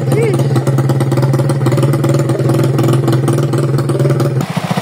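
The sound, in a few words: Rusi TC125 motorcycle engine started and running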